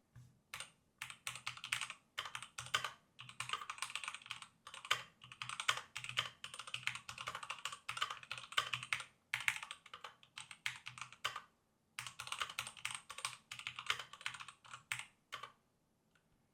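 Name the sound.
typing on MSI Vigor GK41 mechanical gaming keyboard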